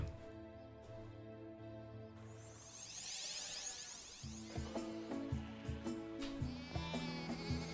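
In the game Deiland, sheep bleat repeatedly over steady game music and effects. The calls are moderately loud and come in a rhythmic run of short bleats toward the end.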